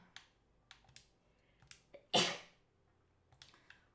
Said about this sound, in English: It was a sneak attack sneeze.